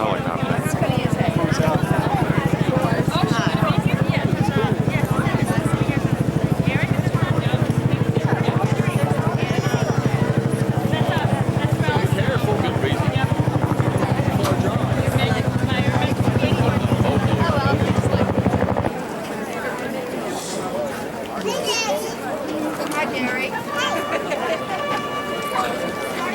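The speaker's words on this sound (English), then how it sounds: "here comes a helicopter." A helicopter flying over West Point during a summer reception day, a steady loud rotor throb dominating for most of the stretch before cutting off, with crowd murmur and voices underneath.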